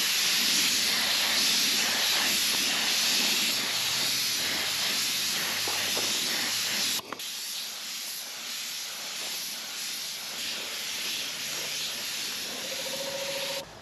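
A spray gun lays a wet-on-wet colour coat onto a Ford F150 truck panel, giving a continuous close airy hiss that runs loud and unbroken, then drops and carries on softer after a brief pause.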